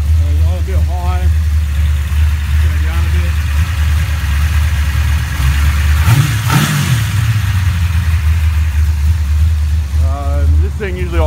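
A Chevrolet 350 V8 idles at a slightly high speed with a deep, steady rumble, close and loud throughout, with a short throttle blip midway and someone talking over it at moments.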